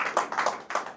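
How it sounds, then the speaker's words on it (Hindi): Audience applause at a Hindi shayari recital, a short burst of a few clapping hands in quick uneven bunches, moderately close, with no voices. "और आप लोग तालियां बजाते रहिए"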